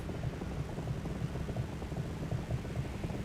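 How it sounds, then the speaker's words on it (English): A DHC-2 Beaver engine in Flight Simulator 2020 runs with a steady drone broken by faint, irregular popping pulses, a continuous low rumble with no talk over it. "this very off-putting popping sound right now"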